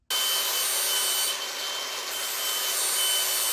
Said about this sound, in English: I'm just gonna put a chamfer on each end of this to get it a little bit better prepped for welding